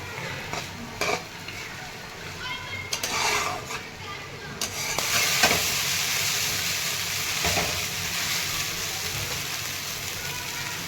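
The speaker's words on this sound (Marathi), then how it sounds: "तर छान असे मिक्स करून घेते पोहे" Poha being mixed with salt in a pan, with scraping stirs and light utensil clinks over a soft, even background hiss.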